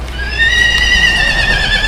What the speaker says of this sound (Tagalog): Ayan, ang kabayo ni Bossing.